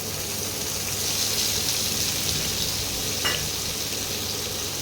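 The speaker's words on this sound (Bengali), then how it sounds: "এবারে আমি টমেটো কুচি দিয়ে দিলাম" Chopped tomato dropped onto spices frying in hot oil, giving a continuous loud sizzle that holds steady, with one brief sharp scrape partway through.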